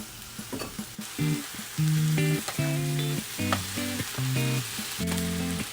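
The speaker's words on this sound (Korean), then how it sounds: "팬에 식용유를 둘러줍니다. 다 넣고 볶아주세요." King oyster mushroom bulgogi stir-fries in an oiled pan, giving a steady close sizzle with stirring scrapes, mixed with tonal background sounds.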